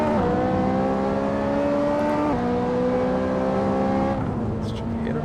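A racing car engine in Assetto Corsa career mode, a sustained high-pitched whine that climbs steadily through the revs, with a couple of gear changes dropping the pitch. Close, loud and continuous.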